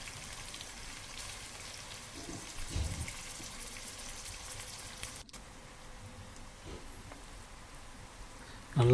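Steady, hissing sizzle of onions frying in hot oil for Hyderabadi mutton biryani, even and continuous throughout, with a few faint clinks and a louder knock at the end.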